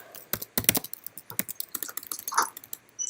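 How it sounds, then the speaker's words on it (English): Fast, uneven typing on a computer keyboard during a team meeting, close and clear with clustered key clicks and short pauses, alone without talk. "I'm just typing something up in here"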